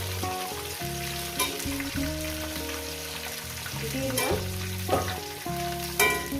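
Potatoes and vegetable stalks fry in oil in a pan, a steady, close sizzle with occasional stirring clatter, over background music.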